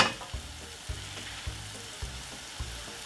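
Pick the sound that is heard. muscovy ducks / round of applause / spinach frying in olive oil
spinach frying in olive oil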